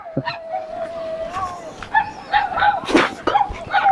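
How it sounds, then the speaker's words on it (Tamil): Dogs in a forested mountain farming village bark repeatedly, sharp yips and barks scattered near and far, with one long whining howl-like tone running under them and a few voices mixed in. "இந்த நாயெல்லாம் அப்படி குலைச்சிட்டு இருக்குது"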